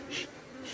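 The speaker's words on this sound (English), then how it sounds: "You see like how I get the bees to move out of the way there?" Africanized honey bees buzz around an open hive, a brief close swell of droning wings that rises and fades, with no talking.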